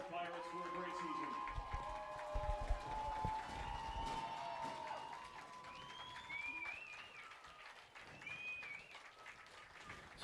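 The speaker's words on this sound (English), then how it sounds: "Let's give a round of applause for our Bayport Pirates for a great season." Crowd applause and cheering for the Bay Port Pirates high school football team at their game against Appleton East rises early then settles into a softer, sustained clapping with distant whistles, under a broadcaster's talk.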